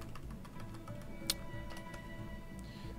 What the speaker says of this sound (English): I'm not good at typing.